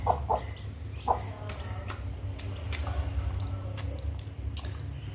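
Hens and roosters feeding, with soft clucks and low murmurs close by and scattered pecking and scratching sounds over a steady background hum.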